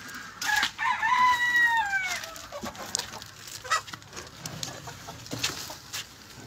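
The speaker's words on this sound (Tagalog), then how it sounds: "O, iyan, mga manok." A rooster crows loudly near the start, followed by scattered clucking from several chickens in a noisy farmyard.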